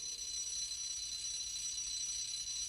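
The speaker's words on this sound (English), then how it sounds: "I must have set the alarm wrong." An alarm clock goes off with a continuous, shrill high-pitched ringing that holds steady and faint throughout, with no voices.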